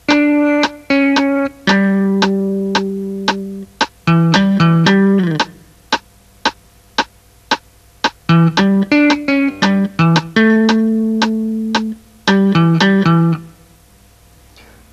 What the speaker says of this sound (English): In the right hand, I'm going to play the melody, and it should sound like this.